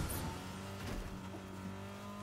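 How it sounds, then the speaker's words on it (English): A truck driving in Fortnite, with a continuous engine drone and tonal hum of a moving vehicle at moderate distance, steady for the whole stretch with a faint squeal near the start and no talking. "that's definitely someone in a truck over here"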